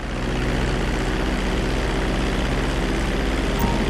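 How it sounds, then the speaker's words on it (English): A propeller airplane in the video game GTA 5 on PS3 drones steadily as it powers up for takeoff, a loud, constant engine roar with a low hum and no talking. "We're gonna start with a basic takeoff."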